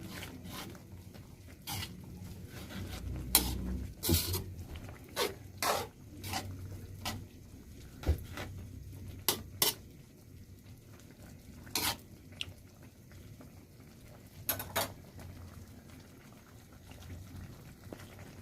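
A pot of mung bean stew with bitter melon leaves is stirred, giving scattered scraping clanks of a utensil against the pot over a low simmering bubble, irregular and close.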